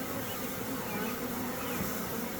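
A swarm of honey bees buzzes in a dense, continuous drone, steady and fairly close, with no voices.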